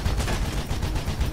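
Police gunfire in the game Mirror's Edge: a dense, continuous burst of rapid shots, loud and steady throughout with no clear gaps, like sustained automatic fire.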